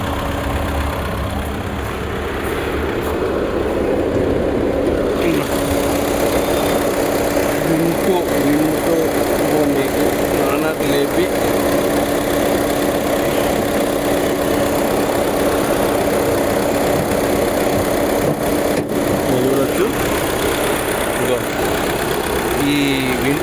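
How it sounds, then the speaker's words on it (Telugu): Volkswagen Vento car engine running at a steady idle, a continuous mid-pitched hum throughout with someone talking over it at times. "వింటో వాక్స్వేగన్ వింటో. మీకు బాగానే లేపి ఇంజన్ సౌండ్ కూడా వినిపిస్తాను నేను."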